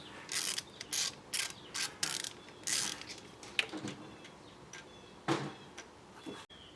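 A ratcheting hand tool backing a thread tap out of a hole during an LS engine swap, giving a series of sharp, close clicking bursts in uneven spurts with short pauses between them.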